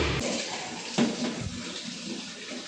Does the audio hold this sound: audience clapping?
no